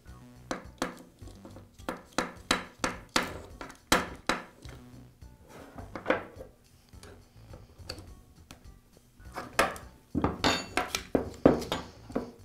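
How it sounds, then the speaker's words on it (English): A nut is tightened on the back of a Senco nail gun's rail during a repair, producing a steady series of crisp metallic ticks like a ratchet, close up, with a pause and then a faster cluster of clinks near the end. "Now I'll secure it with a nut on the back side."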